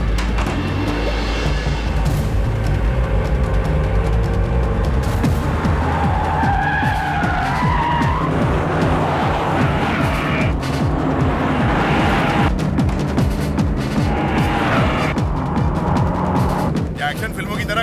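A car skids loudly as it swings around, its tires squealing in long screeches amid roaring engine noise and crashing impacts in a dramatic action scene, with voices faintly mixed in.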